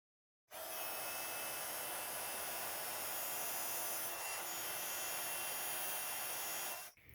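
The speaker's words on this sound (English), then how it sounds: "So then I'm going to heat emboss that with gold embossing powder." A heat tool melts gold embossing powder on a stencilled Christmas card background, giving a steady, loud, breathy blower hiss that runs unbroken for about six seconds and then cuts off, with no talking.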